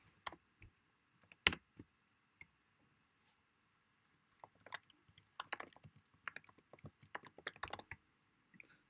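Quiet, sporadic keystrokes on a computer keyboard during a ReactJS coding session, a few isolated taps and then faster clustered bursts of typing, close and alone with no speech.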